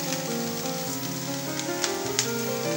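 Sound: vegetables and green chillies frying in pan for pulao

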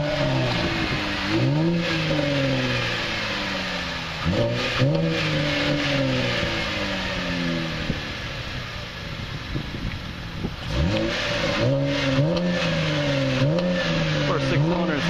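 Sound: 2012 Chevrolet Camaro LS V6 engine revving, exhaust note

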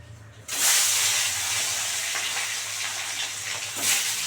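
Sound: aar fish frying and popping in hot oil

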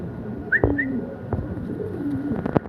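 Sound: pigeons cooing

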